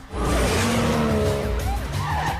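A car speeds off in a chase scene from 2 Fast 2 Furious, its engine roaring loudly and continuously while the tires screech and squeal throughout, with no talking.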